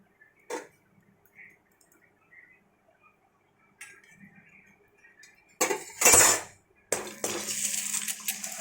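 An egg cracks into hot oil in a wok as a Bengali egg fried rice is cooked; faint clinks come first, then a loud sharp crackle and a steady sizzle that carries on to the end.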